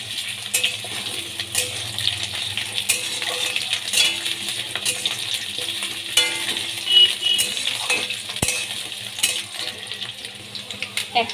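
Potatoes fry in hot oil for a mutton curry, a continuous sizzle broken by sharp clinks of a utensil against the pan, close and fairly loud throughout.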